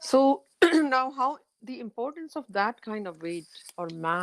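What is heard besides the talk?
No distinct noise like a dog, phone or traffic.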